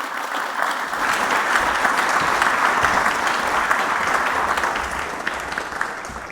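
Conference audience applauding after a panel speech at a Nordic army summit, a dense, steady wash of clapping that swells quickly and holds loud and even, with no voices over it.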